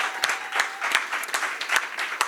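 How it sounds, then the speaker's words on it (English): A small audience at a Detroit justice policy roundtable applauds briefly, with a few distinct claps standing out over a modest, uneven patter of hands that fades within a couple of seconds. "let's clap it up for them."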